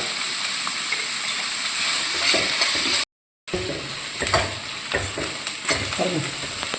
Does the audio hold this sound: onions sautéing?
yes